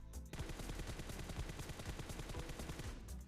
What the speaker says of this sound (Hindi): 500-600 गोलियाँ तो हम उसे हिट करते हैं